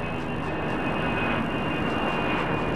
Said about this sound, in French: On décolle.